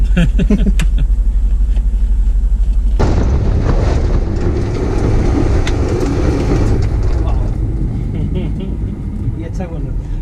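A rally car slides under tail braking, its heavy engine and tyre rumble surging abruptly into a loud, gritty roar after a quieter opening, with voices inside the car.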